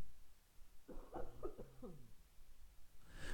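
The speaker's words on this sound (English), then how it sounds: "sorry, I have to cough again." A few quick coughs in a short burst, fairly close, followed by a breathy rasp at the end.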